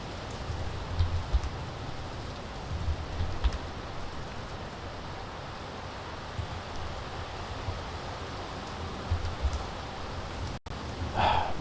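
Steady rain falls outdoors in Nicaragua, a dense, even hiss of drops that holds close and constant throughout, with low patter swelling now and then and no voices.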